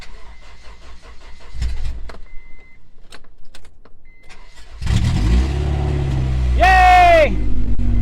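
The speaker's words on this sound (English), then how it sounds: "somebody decided they needed the catalytic converter out of it, so it's gonna be loud, but there will be no doubt if it starts up" A Honda CR-V with its catalytic converter removed cranks and fires up loudly, settling into a rough, raspy idle with a sharp rev, after people talk nearby beforehand.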